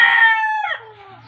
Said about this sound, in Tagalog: gulo ng manok natin.